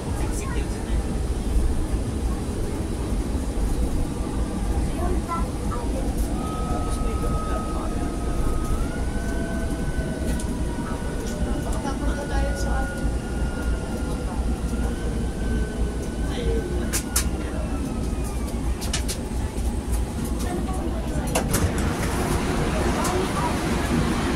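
An MRT Line 3 metro train ride, with a steady rumble and hiss of the moving carriage interior throughout, a faint rising whine of the motors midway, and muffled voices in the background.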